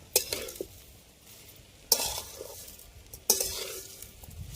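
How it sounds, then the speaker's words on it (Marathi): Onion roasts steadily in a hot iron kadhai while a spatula scrapes and stirs three times, each stir a sharp metallic scrape followed by settling sizzle. "आता कांदा भाजायचा चालला चांगला गोल्डन होस तर"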